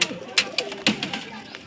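A pet pigeon gives a few soft coos close by, brief and partly masked by a man's speech and sharp handling noises as the bird is held.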